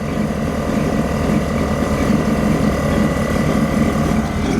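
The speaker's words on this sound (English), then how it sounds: "you might be able to hear the air compressors running" Steady mechanical churning and rattling from running air compressors under a 1966 Chevy, a continuous close hum with rapid pulsing clatter, no voices.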